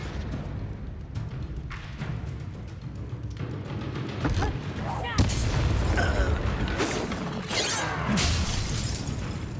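Confringo spell blasts in Hogwarts Legacy, a run of sharp cracking impacts and booming bursts with shattering debris building in loudness toward the end, with voices heard during combat.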